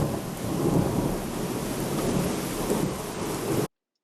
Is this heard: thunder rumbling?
yes